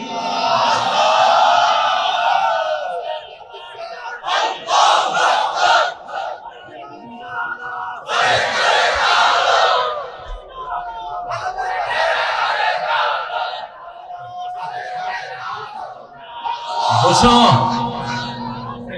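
A large congregation at a Bangla religious sermon roars the takbir chant in repeated loud, massed bursts, the crowd shouting together in waves with brief pauses between calls.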